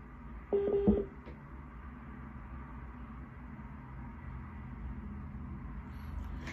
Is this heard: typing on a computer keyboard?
no